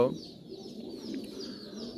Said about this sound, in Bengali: ভিউয়ার্স আমার সামনে আমি কিছু কালো লাহড়ি কবুতর রাখছি বিশ পিস এর উপর হবে